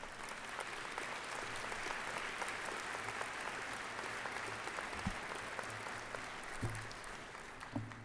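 An audience at a university ceremony applauds in a steady, even, dense round of clapping that carries on throughout without pause, with a few louder individual claps near the end.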